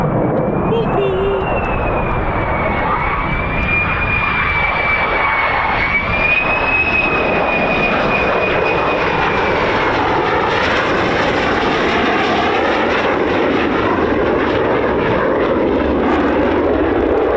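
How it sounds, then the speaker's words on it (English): An F-15 or F-35 fighter jet flies a simulated flame-out approach at RAF Lakenheath, its loud, sustained engine roar sweeping overhead with a rising and falling whine for the whole stretch, with a voice faintly audible underneath. "I'd say the simulated flame out, the PFO, was a successful one"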